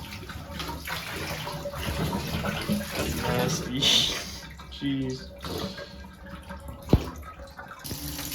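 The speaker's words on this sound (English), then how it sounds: "now that we've washed most of the suds out of both the jeans and the tub" Water splashes and sloshes in a bathtub as soapy suds are rinsed out of denim jeans, with running and dripping sounds under brief spoken remarks and one sharp knock near the end.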